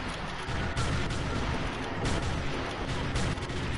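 Volleys of musket and cannon fire at a Civil War reenactment, a dense, continuous barrage of loud overlapping shots and booms rolling on without pause.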